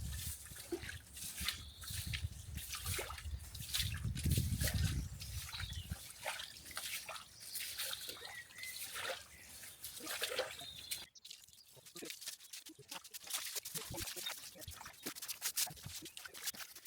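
Water from a garden hose runs over uncovered stones in a homestead courtyard in Ireland, a constant splashing trickle with scattered drips, heard close with faint voices now and then.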